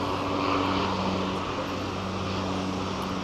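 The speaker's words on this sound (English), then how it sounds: "nice 717 taxiing out" Boeing 717 jet taxiing at Sydney Kingsford Smith Airport, a steady broadband engine roar with a low tonal hum, continuous and fairly close, with no voices.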